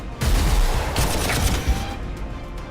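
Rockets firing at a buggy in the strategy game Warhammer 40,000 Armageddon: a loud, dense burst of gunfire-like blasts and rumbling impacts that carries on throughout.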